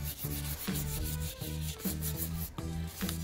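Hand sanding of varnished wood on an old corkboard, a close, rhythmic back-and-forth scratching with about seven strokes in quick succession and no talk.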